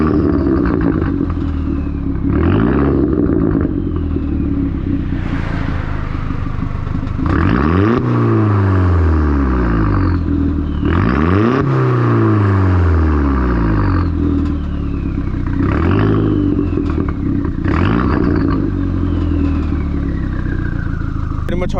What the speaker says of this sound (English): let me give you guys a little rev.